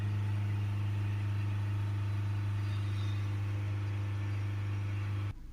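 A 2021 Vauxhall Movano 2.3 van with a blocked diesel particulate filter runs with a steady, loud low engine drone held at raised revs, cutting off abruptly near the end.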